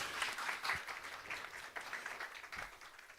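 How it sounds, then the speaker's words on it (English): Audience applause at a conference talk, a steady wash of clapping filling the room for a few seconds, moderately distant and even, with no voices over it. "Big round of applause."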